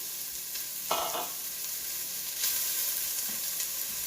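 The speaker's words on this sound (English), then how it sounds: "So I'm dropping my onions in, starting on medium-high heat." Onions frying in about a tablespoon of oil over medium-high heat, a steady soft sizzle throughout with a couple of brief louder crackles and stirring sounds, no talking.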